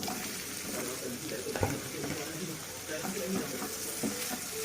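A spice masala fries in a pan with a continuous soft sizzle, broken by occasional stirring clatters and a faint voice in the background.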